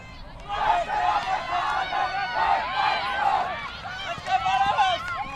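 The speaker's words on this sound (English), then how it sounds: "That was Austria with their end of game cheer." Crowd of players from an ultimate frisbee team shouting an end-of-game cheer on the sideline at a mixed international match, a sustained chorus of voices heard from a distance.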